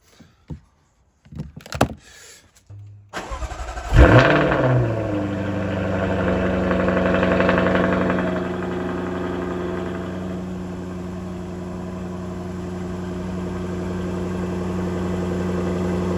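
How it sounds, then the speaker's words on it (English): A Jaguar F-Type cranks over and fires up loudly, the engine flaring to a brief rev before settling into a steady, even idle; faint clicks and a door-like thunk come first. "it's going to tell me to start the engine"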